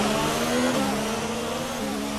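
An F1 race car engine holding a steady, buzzing mid-revs drone during the formation lap in the video game F1 2019, close and loud with no talk.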